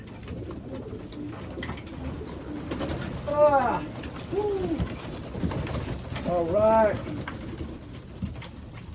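Racing pigeons at the loft cooing in a couple of clear rolling bursts, soft and fairly close, over a quiet background with brief low talk.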